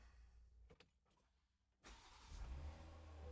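An Ineos Grenadier engine cranks and fires up: faint clicks and a quiet interior, then a sudden catch into a steady, rising idle rumble, close by with no talking.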